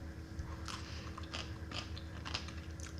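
Crunchy homemade refrigerator-pickled banana peppers being bitten and chewed up close, several crisp crunches spaced through a few seconds with no talking.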